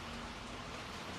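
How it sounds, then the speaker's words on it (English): Steady rain falling, a dense even hiss of drops filling the whole moment, soft and constant with no other sounds. "Can you hear that rain?"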